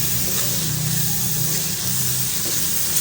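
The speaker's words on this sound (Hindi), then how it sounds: "लेकिन हमारा मसाला जो है वो फ्राई हो रहा है, भुन रहा है।" Turmeric and red chili powder frying in oil while spices are roasted for Lahori chickpeas: a steady, close, loud sizzle and hiss with faint stirring, no voices.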